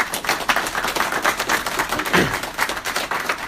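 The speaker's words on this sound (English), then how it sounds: "So give them both a big round of applause." Audience applause at a Kleeneze direct-selling meeting, a steady dense patter of many hands clapping together for about three seconds at moderate level, with no talk over it.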